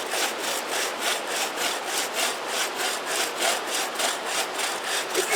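A handsaw cuts through a large log outdoors at a campout, with evenly paced, rhythmic back-and-forth rasping strokes, close and continuous.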